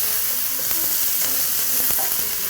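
Curry leaves and browning onions with coarse salt sizzle steadily in a hot pan, a continuous crackling fry with scattered sharper pops, fairly close and without speech.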